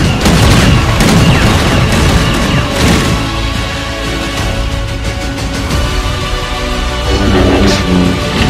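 Heavy blaster fire and booming impacts from a Star Wars film battle scene, a dense, continuous barrage of blasts and crashes that stays loud throughout with no speech.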